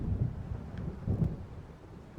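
Stormy ambience from the video game Alan Wake Remastered, with low rumbling thunder rolls and a steady wash of wind and rain over a dark lakeside, continuous and moderately loud with two swelling bursts.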